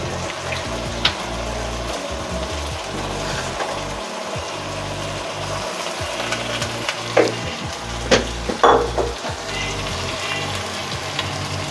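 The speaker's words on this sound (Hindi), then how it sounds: "अब इसमें हम चिकन डालना है। तकरीबन 1 किलो चिकन है ये।" About one kilogram of chicken frying in a pan gives a steady loud sizzle with crackles and occasional bursts of spattering or stirring throughout, with no voices.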